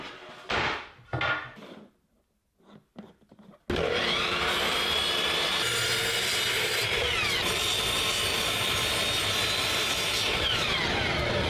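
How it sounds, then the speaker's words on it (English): Table saw ripping wooden rails and stiles for shaker cabinet doors: after a few faint knocks and handling noises, the blade roars in loud and whines continuously through the cut to the end. "cut them to the 2-inch width we need on the table saw"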